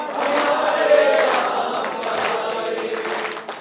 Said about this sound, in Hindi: एक बार हाथ उठाकर तालियां बजा दीजिए।